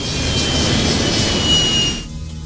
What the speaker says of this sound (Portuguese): o comandante Waters reduz a potência do motor para marcha lenta para protegê-lo de danos